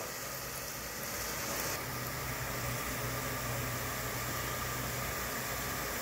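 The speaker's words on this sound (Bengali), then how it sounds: "এটা পেঁয়াজটা ভাজা হোক।" Onion frying in a pan for a home-cooked Jamai Shashthi meal, a steady broadband sizzle with a soft hum underneath, continuous and fairly even from start to finish with no talking.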